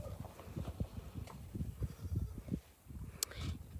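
Hooves of a donkey on a ranch with goats clip-clop in an irregular walking rhythm, moderately close and fairly quiet, with no talking over them.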